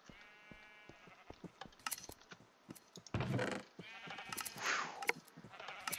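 Sheep in Minecraft bleat several times, some calls close and loud and others fainter, over scattered clicks and a brief burst of mechanical rattling partway through.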